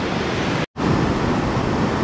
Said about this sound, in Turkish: Yağmur yağdı, derenin hemen debisi arttı, çoğaldı, belli oldu.